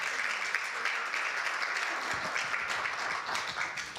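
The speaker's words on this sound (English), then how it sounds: "People are applauding because they know what that means." A congregation applauds during an Easter church service, a sustained, even patter of many hands heard from within the room for several seconds.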